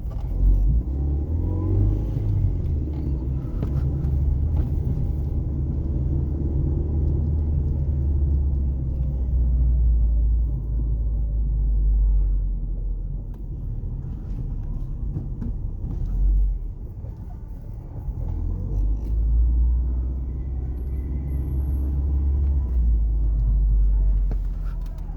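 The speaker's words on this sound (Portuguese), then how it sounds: "O carro ainda em fase de aquecimento, né? Então a mistura ainda tá rica." A Ford Focus engine, still warming up and running rich, rumbles low and steady while driving, with the pitch rising and falling as it accelerates and eases off.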